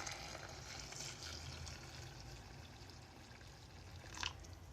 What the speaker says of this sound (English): we will put our boiling water here